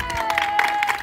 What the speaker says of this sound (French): Vous pouvez vous applaudir, les gars.